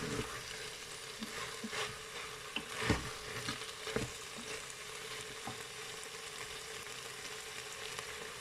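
White wine poured onto browned veal in a Cookeo multicooker, a continuous close sizzle and hiss with a few louder spatters and stirring knocks early on, no talking.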